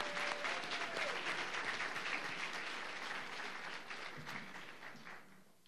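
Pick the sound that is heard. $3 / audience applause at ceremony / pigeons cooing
audience applause at ceremony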